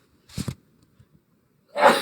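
A person sneezes indoors during a geometry lesson, two quick catching breaths followed a second later by a loud, sharp burst, heard close and alone.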